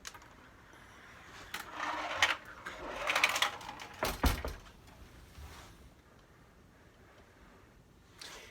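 A 1974 Sankyo pachinko machine in a red mahogany cabinet being played, with clattering bursts of steel balls and mechanical rattles coming in irregular clusters, loudest in the middle and then thinning out to quiet.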